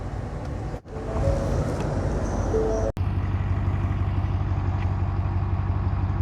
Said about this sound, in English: let you listen to the rumble of this thing while I'm outside.